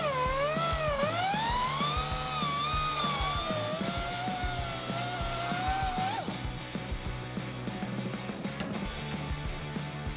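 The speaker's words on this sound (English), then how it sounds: "So I'm going to use a cutoff wheel." A cutoff wheel slices through a metal intake tube during a Jeep Wrangler JK supercharger install, giving a loud, sustained whine that bends in pitch for about six seconds before dropping to a quieter hum.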